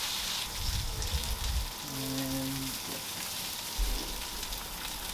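Two packages of sausage links sizzle steadily on an Evo flat top grill, a dense, close, continuous crackling hiss with a few low thumps near the start and end.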